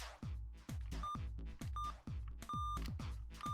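In the video game 999: Nine Hours, Nine Persons, Nine Doors, short electronic beep tones sound between a series of heavy, repeated thudding impacts, with uneven spacing and no voices.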